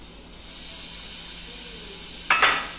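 Green chili sabzi in a pan gives off a loud, continuous hiss and sizzle, flaring into a brief sharper spatter near the end as a spoonful of cream goes in; no one speaks.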